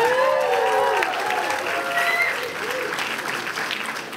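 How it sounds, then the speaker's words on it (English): An audience at a COP15 climate conference ceremony applauds steadily for several seconds, a dense wash of clapping with a few raised voices and cheers mixed in. "let's give a round of applause for all the countries that aren't Canada"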